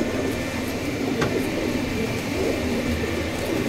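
Pigeons in a loft of fancy breeds, low cooing and bird calls blending into a steady, moderately loud ambient murmur with no talk.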